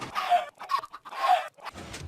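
Video-game chickens cluck in a Minecraft chicken farm: two close, loud bursts of clucking separated by a short pause, with a low thump at the end.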